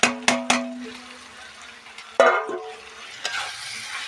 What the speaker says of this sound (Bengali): এবার এরকম ভালো করে নাড়িয়ে চাড়িয়ে ভালো মতন এগুলো কষিয়ে নিতে হবে